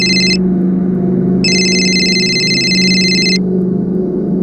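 A phone rings with an incoming call, two bursts of bright electronic ringing, a short one then a longer one, over a low background hum.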